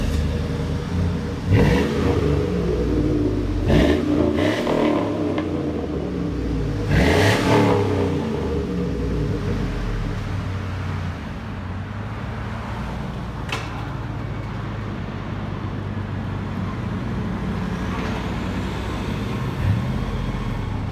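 A 2002 Chevy Tahoe Z71 with a 5.3 V8 and Flowmaster 40 Series dual exhaust into 3.5-inch tips revs up several times in quick surges, then settles into a loud, steady, rumbling idle, heard close.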